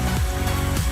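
A paste of garlic, ginger and green chili sizzles in about four tablespoons of hot cooking oil, a steady dense crackle and hiss close by.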